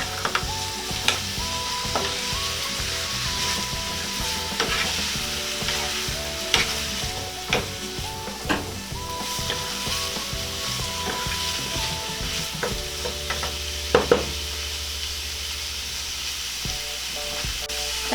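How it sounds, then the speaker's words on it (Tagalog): Sliced beef sautéing with translucent onions in a pan, a loud steady sizzle under repeated clacking strokes of a spatula stirring, with a brief louder flare of hissing late on. "Yan, gigisa lang po natin."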